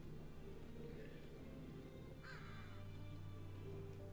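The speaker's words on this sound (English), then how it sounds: "Was that a crow?" A crow caws in the video game Gravity Rush, a few rough calls rising faintly out of a steady low game soundtrack hum.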